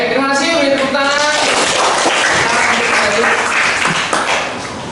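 A classroom of students at a senior high school claps together, a brief burst of applause mixed with scattered voices that fades out toward the end.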